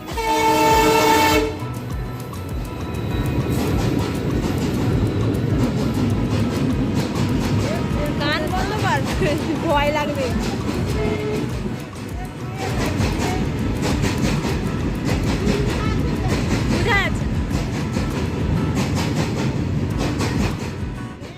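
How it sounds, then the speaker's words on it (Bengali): A delayed Hyderabad-bound passenger train pulls into platform three of a railway station, a loud steady rumble of wagons with a brief horn burst at the start and squealing brake tones, while people talk over the noise. "তিন নম্বর প্ল্যাটফর্মে আমাদের হায়দ্রাবাদগামী ট্রেনটা আসবে"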